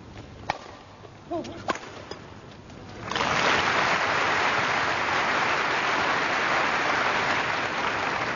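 A badminton crowd at the 1990 All England Championships bursts into sustained, loud applause after a few sharp shuttle hits and murmurs, clapping steady to the end.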